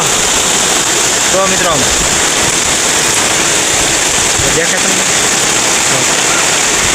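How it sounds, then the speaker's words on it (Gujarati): Heavy rain driven by strong wind on an August day, a loud, steady broadband roar filling the whole clip, with someone talking over it. "કેટલો વરસાદ પડે ને પવન એટલો છે આજ"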